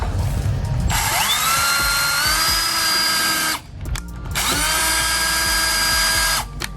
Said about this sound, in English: Now we'll drill the big boy hole.